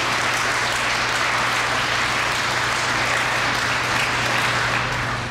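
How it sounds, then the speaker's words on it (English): Sustained audience applause at an EMS graduation ceremony, a dense, steady wash of many hands clapping at constant loudness throughout, with a low hum beneath. "Give them another round of applause"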